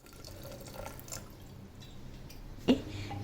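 Water pours and drips into bhagar cooking in a pan, a faint, close trickle with one brief louder splash near the end.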